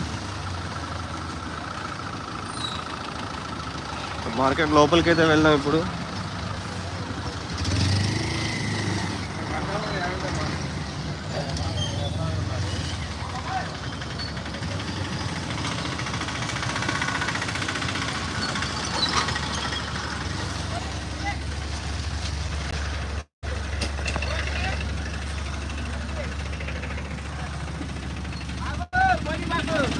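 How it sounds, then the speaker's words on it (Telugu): Vehicle engines rumble and idle in heavy traffic at the Khammam chilli market, a steady low drone running throughout while someone talks over it. "ప్రస్తుతం అయితే వెహికల్స్ ఇంకా వస్తూనే ఉన్నాయి మొత్తం పెద్ద మొత్తం ట్రాఫిక్ అయిపోయిందండి"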